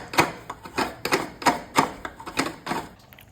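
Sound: grating fresh coconut

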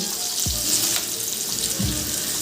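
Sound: chopped onion and spices frying for chicken korma

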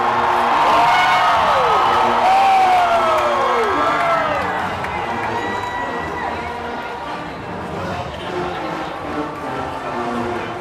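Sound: stadium crowd applauding and roaring

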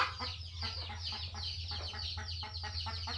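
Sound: chickens clucking entering a new coop

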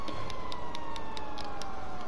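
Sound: fire engine siren in GTA 5 video game

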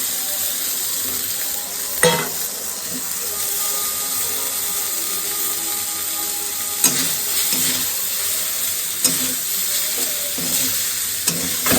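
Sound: stirring and frying noodles with soy sauce in a pan

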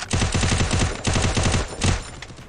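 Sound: gunshot in the video game Free Fire

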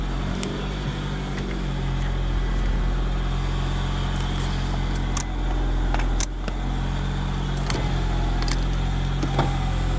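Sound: car power windows moving up and down

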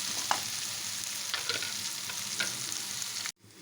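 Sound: turmeric and ginger garlic paste frying in oil

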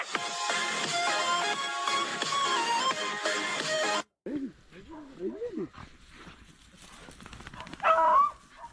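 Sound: beagle dog barking during rabbit hunt

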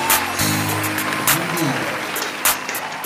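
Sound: applause

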